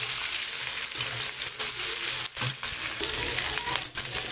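Capsicum, onion and green chili slices sizzle and fry in hot oil in a home kitchen for chili chicken, a steady close crackling hiss with occasional stirring scrapes.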